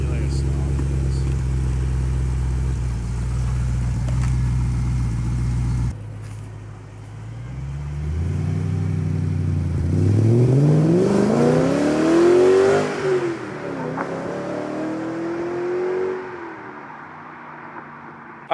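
BMW M3 E92 fitted with a Megan aftermarket exhaust, idling with a deep burble, then revving hard and climbing in pitch before dropping back, loud and close with a sharp rising blip near the end.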